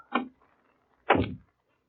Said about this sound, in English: Better close the door.